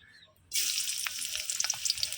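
Chopped garlic hits hot oil in a pan on a gas stove, and a loud, steady sizzle bursts in after a brief quiet moment, with a few crackles and no talking.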